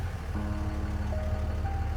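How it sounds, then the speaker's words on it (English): A diesel engine vehicle rumbles with a low, steady idle, fairly faint, with a few tonal beep-like notes sounding over it. "That sounds like a diesel."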